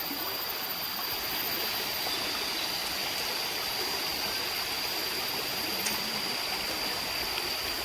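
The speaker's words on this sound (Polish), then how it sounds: "No i ta rzeka na pewno prowadzi do tego wodospadu." A river stream in a Thai jungle flows with a continuous broad rush of water, steady and fairly close, with a faint high insect whine above and no talk.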